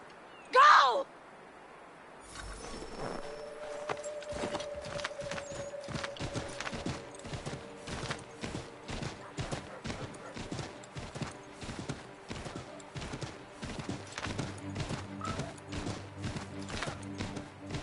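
In Assassin's Creed III, after a brief horse whinny, rapid hoofbeats gallop in a steady rhythmic pattern, joined by a low sustained musical tone.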